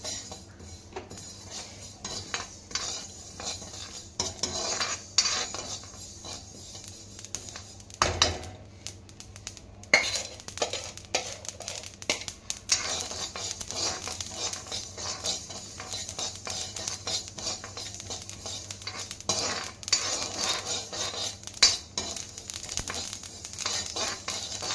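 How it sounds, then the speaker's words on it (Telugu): Sesame seeds dry roasting in a pan for mint chutney, a low crackle under repeated scraping and clinking of a spoon against the pan, irregular and close, with a sharp knock near the middle and no talk. "సో తర్వాత నువ్వులైతే వేయించుకోవాలి."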